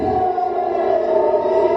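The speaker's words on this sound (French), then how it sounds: "ce déluge de feu déclenche immédiatement les sirènes" An air raid siren wails in Tel Aviv during a rocket attack, holding a loud, steady, sustained tone throughout this short stretch.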